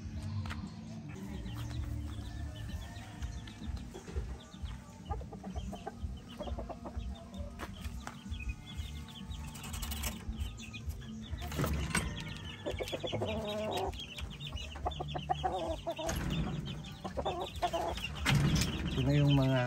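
Chickens cluck steadily at a poultry farm, with several birds heard close by. A few louder squawks break in near the end. Talk runs underneath in places.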